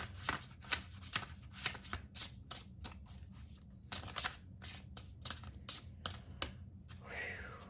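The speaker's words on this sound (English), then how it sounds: "I feel like I still want to shuffle one more out of this deck." A tarot deck being shuffled repeatedly, crisp riffling bursts in quick succession with brief pauses between, close and fairly quiet.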